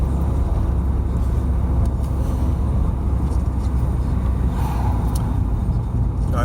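Steady road traffic at a roundabout near Cowie and Bannockburn, Stirling, as a learner driver's car rolls past with a constant low rumble from start to finish and no voices.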